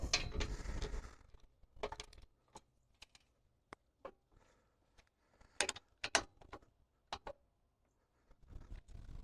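A 17 mm wrench snugs a bolt on a rototiller during maintenance, giving a string of sharp metallic clicks and ratcheting taps with quiet gaps, after an opening burst of handling noise.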